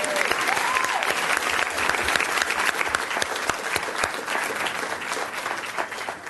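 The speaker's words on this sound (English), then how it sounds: "I think we need one more round of applause." Sustained applause from an audience at a middle school student performance, dense clapping that continues steadily for several seconds, fading slightly at the end.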